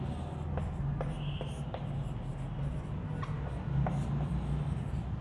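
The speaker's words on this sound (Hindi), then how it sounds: "इसको हिंदी लिखते हैं पहले।" Hindi text written by hand with pen on paper, soft scratchy strokes and small taps in irregular bursts, close and quiet over a low room hum.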